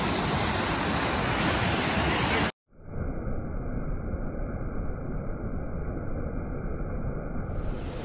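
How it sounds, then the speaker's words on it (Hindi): A mountain waterfall near Neelkanth gives a loud, continuous roar of rushing water. It cuts out briefly after a couple of seconds, then resumes just as steady with a faint tonal hum underneath. "झरना।"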